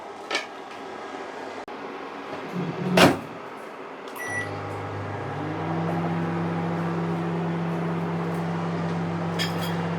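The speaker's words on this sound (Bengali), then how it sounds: "দিয়ে এক মিনিট একটু ওভেনে গরম করব" A microwave oven heating mozzarella cheese. A door clunks shut and a few button beeps sound, then a steady low hum starts and runs on alone.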